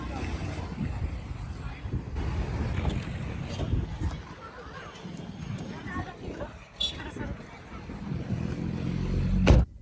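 Wind rushes steadily past a moving vehicle on the way to a Ganpati booking, rumbling low and buffeting the microphone, with a louder gust near the end and voices chatting underneath.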